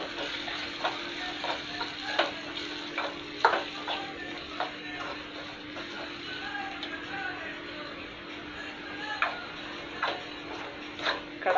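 Spiced mixture frying in a kadai while being stirred, a steady soft sizzle with irregular scraping and tapping of the spoon against the pan, close and moderately quiet.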